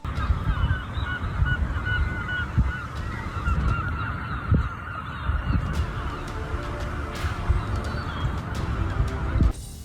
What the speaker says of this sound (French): Le flot des mouettes.